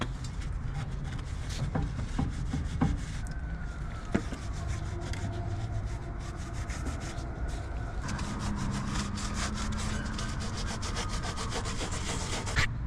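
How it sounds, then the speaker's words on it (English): A rag with alcohol scrubs the front brake caliper and other parts of a Suzuki Cappuccino, making a steady, close, rhythmic rubbing and scraping that continues without pause and without speech. "let's grab some alcohol, a rag, clean up all the extra dirt, any of the residue"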